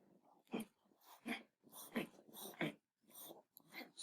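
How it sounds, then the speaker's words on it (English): A dog whimpers and whines in short, faint, close bursts, about seven soft cries separated by brief pauses, in an otherwise quiet room. "my dog's having a hard time"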